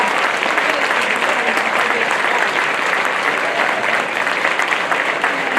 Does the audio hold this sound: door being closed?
no